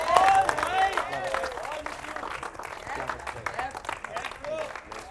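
An audience at a show's vote-out elimination round breaks into applause, a dense patter of clapping that starts strong and then fades gradually, with a voice briefly heard over it.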